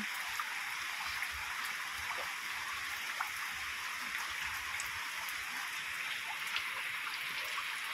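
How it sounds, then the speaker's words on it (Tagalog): Heavy rain falls as a steady, dense hiss with scattered patters of drops, constant and fairly faint throughout, with no voices. "inabot ang malakas na ulan."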